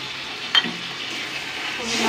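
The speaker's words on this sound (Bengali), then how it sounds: "এবার আমি অল্প একটু জল দিয়ে দিচ্ছি।" Water splashed into a pan of red chilli spice paste already frying, giving a brief burst then a steady close sizzle and hiss.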